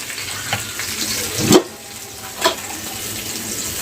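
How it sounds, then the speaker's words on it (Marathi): Cumin seeds sizzle in hot oil with green chilli and garlic for a Maharashtrian chilli-tomato thecha, a steady close crackle with a few louder spits and stirs. "चांगलं जिऱ्याला पण आपण तेलामध्ये चांगलं फ्राय करून घेऊया"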